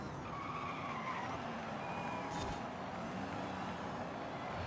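Audi race car in a racing video game skidding and sliding under braking, a steady engine roar with high tire squeal streaks over continuous road noise, loud and close with no talk.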